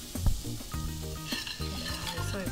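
Shallots, garlic and sugar cook toward caramel in a pot, a soft nearby sizzle broken by a few metal clinks and scrapes of a utensil, with no voices.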